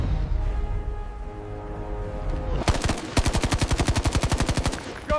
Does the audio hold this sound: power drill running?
no